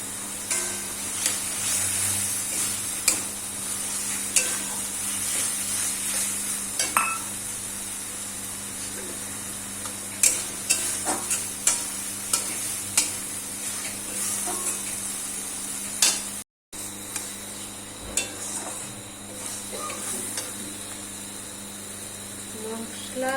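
Tomatoes and spices frying for chicken kasha, a steady hiss of oil in the pan with occasional clicks and scrapes of stirring, close and even, with a brief silent gap near the end.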